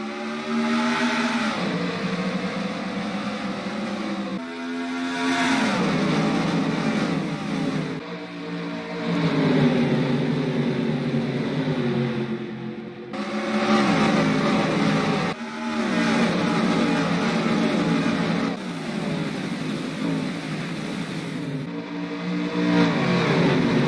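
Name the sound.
NASCAR race cars racing at Pikes Peak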